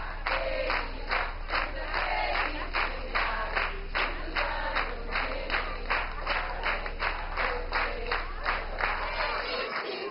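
A small group claps in quick, even rhythm at a child's birthday party, the claps close and continuous with murmuring voices and cheering underneath.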